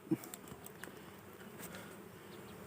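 Dwarf honey bees swarming from their nest give off a faint, distant buzzing hum with a few soft taps.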